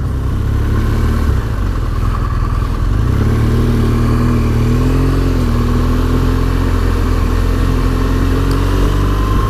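BMW R1200GS motorcycle carrying loaded panniers, its engine droning steadily and close throughout the ride with a low rumble and slowly rising pitch, wind noise mixed in, no talking.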